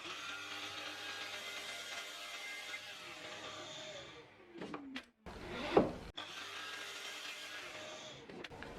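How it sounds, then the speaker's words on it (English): A mitre saw cuts wooden pieces to length against a stop block, with a steady motor whine, a couple of short, louder bursts as the blade bites through the wood, then the motor running on. No one speaks. "So now I've got my stop block, which means I can cut these pieces at exactly the same length."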